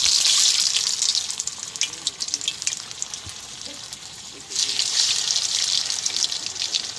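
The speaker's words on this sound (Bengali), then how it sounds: "আমার তেল গরম হয়ে গেছে, এবারে আমি একটা একটা করে ছেড়ে দেব।" Vegetable chops drop into hot oil in a Bengali home kitchen, a loud hissing sizzle that eases and then surges again as more pieces go in.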